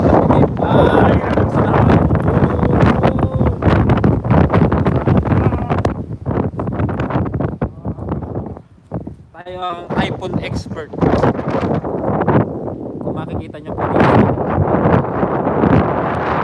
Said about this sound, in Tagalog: malakas na hangin na pumupos.